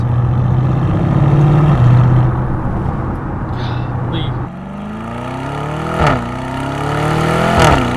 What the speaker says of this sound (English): Listen to these downshifts. They're so fast.